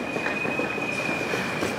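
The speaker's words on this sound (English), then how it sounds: "now we're just taking the train to Essen from Frankfurt" A passenger train from Frankfurt to Essen rolling along, a steady close rumble of wheels on track with a faint rhythmic clatter and a thin, constant high squeal over the top.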